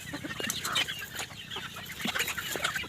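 Chickens cluck and chatter close by while pecking at chopped grass feed on a hot, sunny day, a busy run of short, overlapping clucks with no voices.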